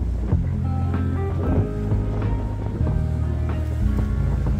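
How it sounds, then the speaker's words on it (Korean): Winter sea waves churn under strong wind at Eulwangri Beach, a steady loud roar of surf with gusting wind buffeting the microphone throughout, no voices. "바람이 많이 불다 보니까 파도가 꽤나 이네요."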